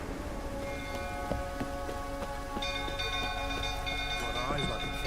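Rain in the video game The Witcher 3 hisses steadily beneath sustained game music tones and a few soft knocks, at a fairly low level throughout.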